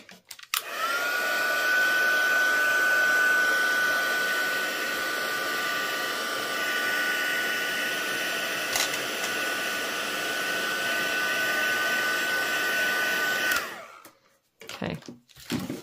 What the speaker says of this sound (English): You can also hit it with your heat tool if you want to dry quickly.